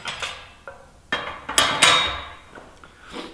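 Sheet metal is hammered on a T-dolly at a hand-built metal shaping station: a series of sharp, ringing metallic strikes at irregular intervals, close and loud, with no talking.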